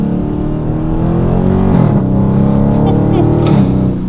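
A 2019 Dodge Charger R/T Scat Pack engine on a test drive, a loud, close, rumbling drone that rises and falls with shifting gears while people talk over it.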